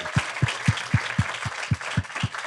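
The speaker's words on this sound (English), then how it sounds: "Round of applause for Virtus" An audience at an investment conference applauds in a steady, full round, with a regular low thumping beat running underneath the clapping for the whole stretch.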